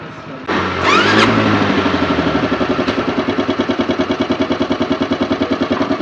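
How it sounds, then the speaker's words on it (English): A Yamaha fuel-injected engine cranks briefly, then fires and settles into a steady, rhythmic running beat, loud and close, with no talk. "the engine is up and running"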